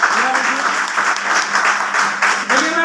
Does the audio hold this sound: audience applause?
yes